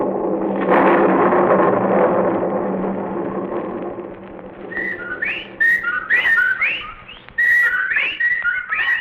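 Whippoorwill calls in a radio drama: repeated rising, whistled chirps come in quick bursts after a fading low droning wash.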